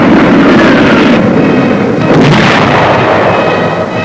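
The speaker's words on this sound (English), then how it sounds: "Both times they had come up against a wall of automatic weapon, mortar, and artillery fire." Artillery fire in a 1945 wartime battle at San Pietro, a dense continuous roar of loud booming blasts rolling one into another with no pauses, heavy and distant-sounding.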